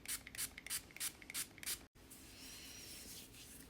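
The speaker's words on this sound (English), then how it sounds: "do you need some more anti-back spray?" An antibacterial spray bottle fires a quick series of close, hissing pumps, about six short bursts in a steady rhythm. A brief pause follows, then a softer continuous rustle.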